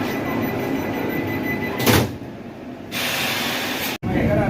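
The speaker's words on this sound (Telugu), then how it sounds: "డోర్స్ అయితే క్లోజ్ అవుతున్నాయి అది కూడా చూడండి డోర్స్ అయితే క్లోజ్ అయిపోయాయి" Doors of a Vande Bharat Express train closing at a station before departure, with sliding-door whooshes and a sharp thud over steady platform and train hum.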